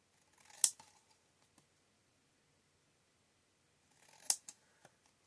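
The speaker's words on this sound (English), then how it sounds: "I'm just going to manually trim this just so that you can see." Two crisp, close scissor snips trim a stamped paper card panel for a craft project, spaced a few seconds apart with a faint paper rustle after each cut.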